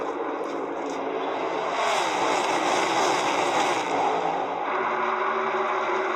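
NASCAR stock cars race single file on the final lap at Las Vegas. A loud, continuous engine roar swells as the cars pass close by, then eases off slightly.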